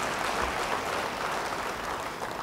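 Church congregation applauding during a sermon, a dense steady wash of clapping from many hands lasting a couple of seconds, moderately loud and without speech.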